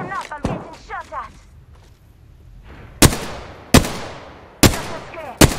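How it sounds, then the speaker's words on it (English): Four loud, sharp gunshots in a video game, spaced roughly a second apart near the end, after a quieter stretch with talk and faint rattling. "It's enough, I'm getting shot at!"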